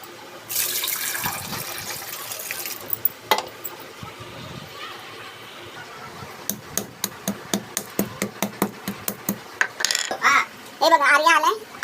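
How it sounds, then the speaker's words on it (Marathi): Running tap water splashes briefly near the start as mangoes are washed, followed by a string of sharp knocks and clatters, with faint background voices. "आता आंबे धुवून घेऊया आणि पाण्यामध्ये ठेवूया"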